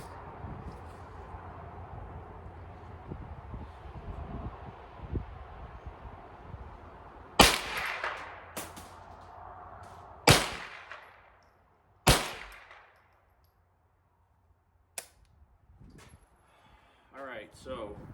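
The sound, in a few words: 22 LR rifle gunshots, bench rest shooting at range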